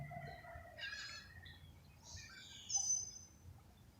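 Birds calling somewhere outdoors near a street corner, a few faint chirps and short trilling calls at a distance over low background hum, with no talk.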